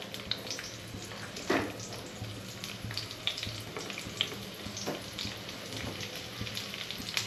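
Onions dropped into about two spoons of hot oil on a low flame sizzle and crackle steadily, with a dense close-up frying hiss and scattered louder pops. No one talks.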